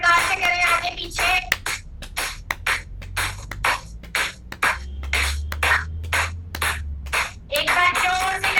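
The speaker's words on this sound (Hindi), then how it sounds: "एक बार जोर से करेंगे तालीवादन।" Hand clapping at the close of a yoga class: a run of sharp, evenly spaced claps, near and fairly loud, with a voice speaking at the start and end.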